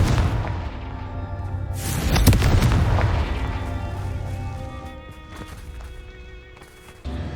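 A Confringo blasting spell going off in the fantasy game Hogwarts Legacy, one sharp loud burst that booms and crackles, then decays over a few seconds into the surrounding game ambience.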